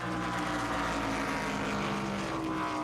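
Engine drone from racing cars in a flyby of the field during a stock car Cup Series race in a video game, a steady, dense, loud motor roar with layered engine tones and no talk.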